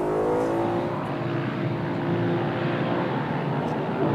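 An Audi RS4 Avant heads onto the race track at Zeltweg, its engine producing a constant, moderately loud drone with tonal harmonics that climb slightly as it pulls away.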